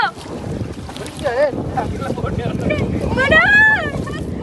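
A boat moves across water amid wind buffeting the microphone, with voices shouting and talking over the rushing noise.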